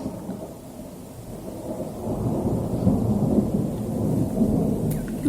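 Strong thunder rolls through a thunderstorm, a deep rumble that builds and swells over steady rain, loud and sustained with no talking.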